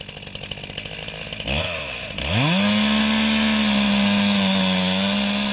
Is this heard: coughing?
no